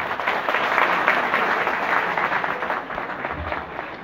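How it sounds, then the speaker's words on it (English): An audience at a Marathi film event bursts into loud, sustained applause for arriving dignitaries, dense clapping that fills the hall and slowly tapers toward the end. "Please welcome all the dignitaries with huge round of applause."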